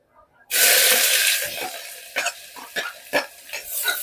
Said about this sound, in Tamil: இந்த வெங்காயம் வந்து நல்ல கலர் மாறுற அளவுக்கு நல்லா வதக்கி விட்டுருலாம்